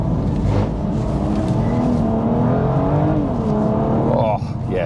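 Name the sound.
BMW M2 Competition driving on damp tarmac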